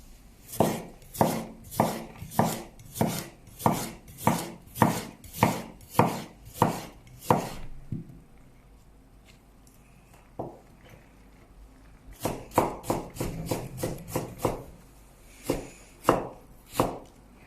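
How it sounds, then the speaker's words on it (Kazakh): Rapid, steady knife chops on a cutting board slicing cucumber, a long run of crisp strikes, a pause with a single knock, then another fast burst. "Мен қиярды турап жатырмын."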